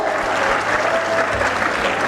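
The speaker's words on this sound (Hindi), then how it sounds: "ताली बजाओ कम से कम" A seated audience claps during a Youth Day talk on the life of Swami Vivekananda, producing brisk, even applause close by that continues for about two seconds.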